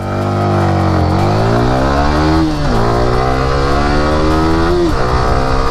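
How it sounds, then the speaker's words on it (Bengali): A Yamaha R15M World GP 60th Anniversary Edition sports motorcycle accelerates hard from 0 to 100, loud and close. The engine note climbs steadily and drops briefly at two gear shifts before rising again. "তো চলেন এই বাইকের একটা পাওয়ার টেস্ট দেওয়া যাক, 0 to 100"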